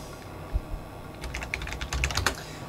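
A short burst of key clicks from a computer keyboard as a Linux install command is typed, starting with a few isolated taps and then a quick, close run of keystrokes.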